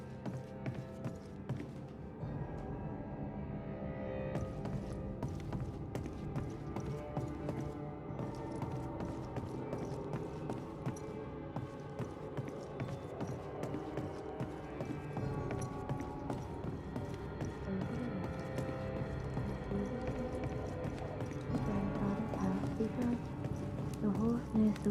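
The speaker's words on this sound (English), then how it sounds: "The horse knows the way to carry the sleigh." Horse hooves clip-clop steadily while pulling a sleigh in Banishers: Ghost of New Eden, a continuous rhythmic trot set under a dense bed of game music and ambience, with voices speaking over it.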